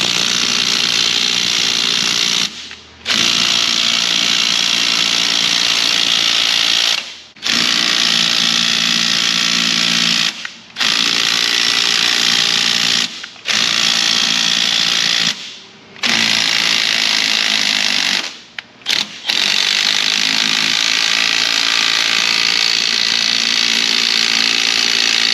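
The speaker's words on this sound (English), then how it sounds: "we're going to up it to the 90-degree impact. We're going to chain drive impact gun this bolt out of here" A 90-degree chain-drive impact gun hammers at a bolt during an oil pan teardown on a Ford Explorer 5.0/4.6, firing in loud, rattling bursts of several seconds each, split by brief pauses, with no voices.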